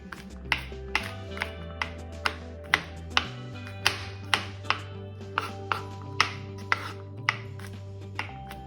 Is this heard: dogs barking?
no